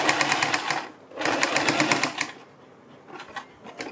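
Sewing machine stitching a neck strip onto a kurti, running in two loud rapid bursts of needle clatter separated by a brief pause, then fading to quieter intermittent stitching.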